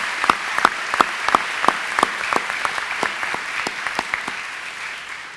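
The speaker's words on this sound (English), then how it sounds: "Please join me in a round of applause acknowledging these very important individuals" A crowd applauds at Butler County Community College's 2017 commencement ceremony, sustained clapping with sharp individual claps standing out in a loose rhythm throughout.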